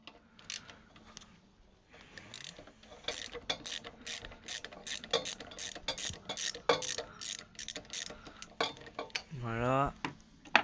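A hand ratchet wrench turns a socket on an MTD 46 SPB lawn mower being restored. Quick bursts of ratcheting clicks repeat close up, with small metallic clatter and a short squeak near the end.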